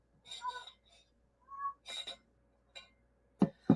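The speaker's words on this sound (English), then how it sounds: "That's my other cat, my oldest cat." A gray house cat lets out a few short, thin meows in a quiet room, near but soft, with a person talking around the calls.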